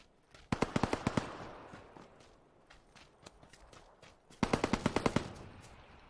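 Automatic gunfire in the video game PUBG, two rapid bursts of about eight shots each, fairly loud, with scattered single distant shots in between.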